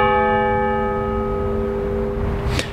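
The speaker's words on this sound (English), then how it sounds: "local church likes to ring their bells" Local church bells ring with sustained, overlapping tones that hang steadily in the air, loud and near, with no talking over them.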